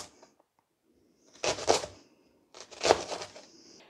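A knife thinly slicing a leek diagonally on a board: two short bursts of crisp, crunchy cutting close up, separated by a brief pause, in an otherwise quiet kitchen.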